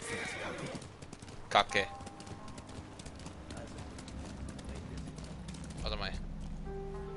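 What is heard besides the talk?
horse neighing and hooves clip-clopping in Ghost of Tsushima video game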